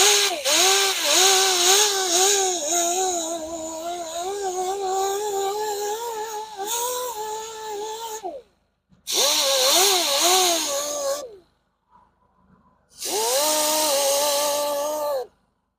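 An angle grinder reshapes the damaged lip of a Jaguar wheel rim, a loud, close, whining grind whose pitch wavers as it bites, running long, then stopping twice before resuming in shorter bursts.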